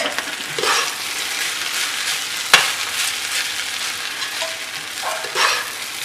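Carrots stirred into masala rice in a hot pan for a no-onion, no-tomato instant biriyani, giving a steady close sizzle with scraping strokes and one sharp clack of the spoon against the pan partway through.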